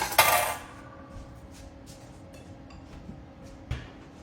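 A butter knife is put away among other cutlery with one sharp metallic clatter at the start, then a faint clink a few seconds later over quiet kitchen room tone.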